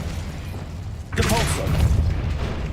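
An Incendio fire spell from the Hogwarts Legacy video game erupts about a second in, a loud whooshing burst that swells and lingers over steady background game ambience.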